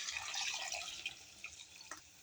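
Water poured over rice in a pressure cooker for biryani, a close splashing, trickling pour that fades toward the end, alone.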